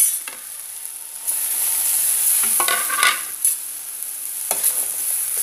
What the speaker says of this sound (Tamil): இதையும் நல்லா பொன்னிறம் வரும் வரை வதக்கிட்டு உங்களுக்கு காமிக்கிறேன்